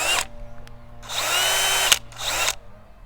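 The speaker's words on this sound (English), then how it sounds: "and I'm ready to drill." A cordless battery-powered auger drill for planting flowers whirs loudly in two bursts, spinning up, running steadily for about a second or more, then stopping, close to the microphone with no talking.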